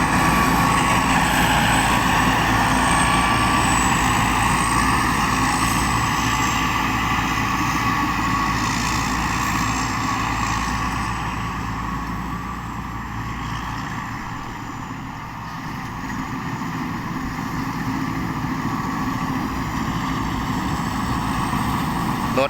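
The worn engine of a Sun Sun combine harvester runs loud and close for the whole stretch. It gives a steady, dense drone that dips slightly midway and never pauses.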